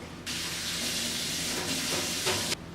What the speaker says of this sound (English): So I'm going to rinse this off at the sink.